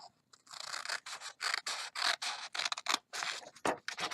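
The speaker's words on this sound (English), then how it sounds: "just trim it right along the edge of the card" Scissors trimming paper along the edge of a folded card, a series of short crisp snips in an uneven rhythm, close and fairly loud with brief pauses between cuts.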